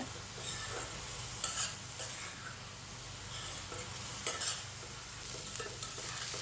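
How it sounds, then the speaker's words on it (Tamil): Onion and garlic sautéing in a pan, a steady soft sizzle broken by a few bursts of scraping and clattering as the spoon stirs them. "வெங்காயம் ஓரளவு வதங்கினதும் பூண்டையும் சேர்த்துக்கலாம் அதையும் சேர்த்து ஒன்றா வதக்கி விடுங்க"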